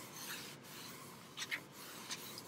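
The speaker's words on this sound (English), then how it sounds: "I'm just rubbing this into the wood" Wood stain being rubbed into a small wooden craft piece with a cloth in a kitchen: a soft, steady, close rubbing hiss with a few brief louder swipes near the end, with no voices.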